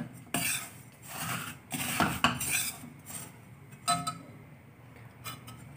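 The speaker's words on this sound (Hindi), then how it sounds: "अब इसको इस तरह से दबा दबा के इवनली कुक करें ताकि कलर सारा एक जैसा हो जाए इसका।" Peda mixture for brown peda cooks in ghee in a pan while a utensil presses and scrapes it, making intermittent close clinks and rasping scrapes against the metal over a faint background.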